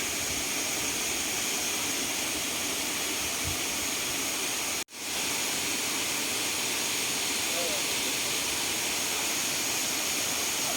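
Tad Yeuang waterfall near Pakchong in Champasak, Laos, roars as a dense, steady wash of falling water, loud and unbroken apart from one instant dropout midway.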